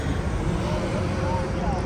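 An airplane passes overhead in an outdoor city setting, a steady broad rushing roar filling the short stretch, loud and even with no distinct onset or fade.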